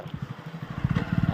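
A friend's motorcycle being ridden, its engine putting out a steady, rapid low thumping pulse that builds slightly in loudness over a short stretch, close to the listener with no talk.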